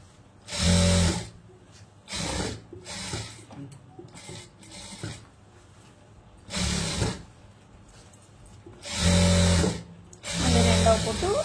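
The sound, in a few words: sewing machine stitching a lined blouse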